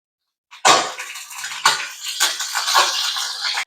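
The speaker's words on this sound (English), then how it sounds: "Now, we're gonna add in our coconut milk." Coconut milk pours into a cooking pot in a few separate glugs and splashes, each starting sharply and then trailing off into a steady liquid stream, close and fairly loud.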